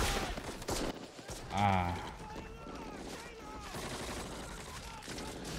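Gunfire in a Band of Brothers war episode set at Carentan. Rapid shots crackle, with a heavy burst near the middle, under loud layered battle noise. A person gives a short exclamation.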